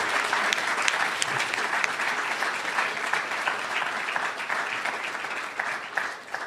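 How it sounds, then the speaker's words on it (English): Applause at a government announcement on AI training for clean energy workers, a sustained even round of clapping from an audience that fades slightly toward the end. "let's clap"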